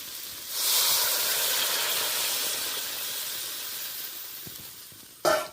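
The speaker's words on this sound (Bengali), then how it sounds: "এই পর্যায়ে আমি গরম জলটা অ্যাড করে দেবো" Hot water poured into a simmering dal and egg curry sets off a sudden loud sizzling hiss that slowly fades over several seconds, ending with a sharp utensil clink, close and without talk.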